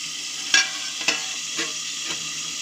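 Vegetable fritters frying in a pan, a continuous bright sizzle with four distinct stirring scrapes spaced about half a second apart, close up, no voices.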